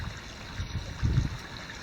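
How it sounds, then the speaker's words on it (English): A pump-fed waterfall in a backyard garden pond runs with a steady, soft trickling and splashing flow at close range, continuous and fairly quiet, with a slight swell partway through. "reinstalled the pump, so our waterfall is back"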